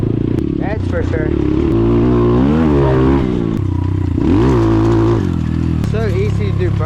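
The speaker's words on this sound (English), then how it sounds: "So easy to do burnouts in the pine tags" A dirt bike doing burnouts on a bed of pine needles, the engine droning loud and steady with rising and falling revs and scattered clattering, heard close with people talking over it.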